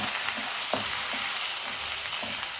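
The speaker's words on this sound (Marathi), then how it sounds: "कांदा थोडासा परतून घेऊया" Onion sautés with ginger-garlic paste in a pan, a dense, close sizzle broken by a few soft stirring scrapes and knocks.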